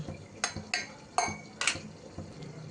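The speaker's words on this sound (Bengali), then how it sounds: "এইবার আমি একটা মিক্সির বাটির মধ্যে সব বরবটিটা তুলে নিচ্ছি।" Cooked green beans (barbati) scraped with a spoon from a dish into a steel mixer-grinder jar, giving several separate metallic clinks and scrapes at an irregular pace, close and fairly quiet, with no talking.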